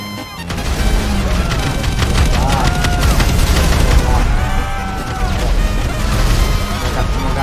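Dense explosive-ammo gunfire in GTA V, loud sustained bursts of shots and blasts layered over continuous game noise and music with no pause.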